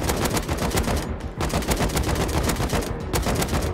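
Automatic turret fire in a survival video game: rapid, loud bursts of machine-gun shots in a tight, steady rhythm, with two brief pauses between bursts and no talking.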